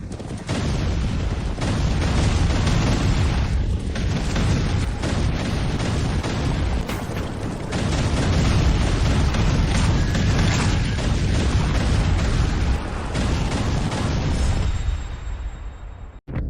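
Loud, dense battle noise from troops firing in a dubbed historical drama: booming explosions and rapid gunfire roll almost without pause, then fade away at the very end.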